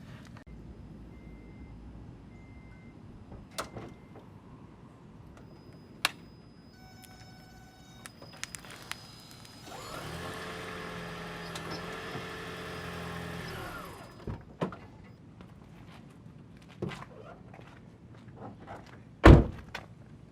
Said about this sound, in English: So let's go ahead and drive over this thing.